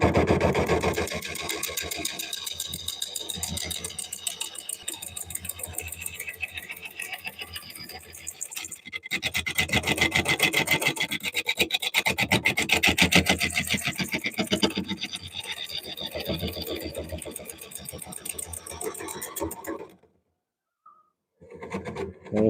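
A good-sized scraper cuts an oak bowl spinning on a wood lathe, making a steady, rapid, rhythmic chatter that runs close and fairly loud for about twenty seconds, then stops.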